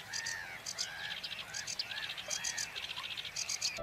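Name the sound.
tree frogs and water birds calling at a lake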